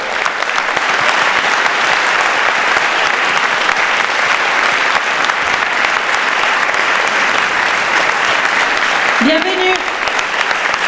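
Loud, sustained audience applause at a film premiere in a cinema, dense clapping throughout with a voice briefly heard near the end.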